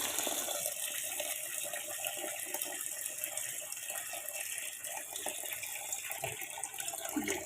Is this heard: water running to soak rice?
yes